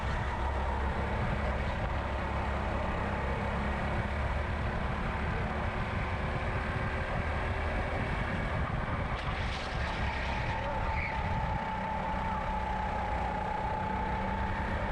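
A race car driven hard around a track during a league race at night, its engine a steady, continuous drone with sustained harmonic tones throughout, loud and unbroken, with no talk.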